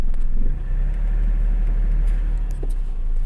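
A car pulls away in first gear during a driving lesson, a steady low engine rumble holding near and even throughout with no talk over it.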